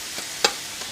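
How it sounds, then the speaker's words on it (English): Pork carnitas frying in a pan, a soft, steady hiss of sizzle with one sharper crackle pop near the middle and faint spits around it, close and quiet. "I don't know if you guys can hear the sizzle"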